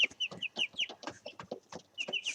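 Young chicks and chickens cluck and peep in a quick, busy series of short calls, close and clear with no talk.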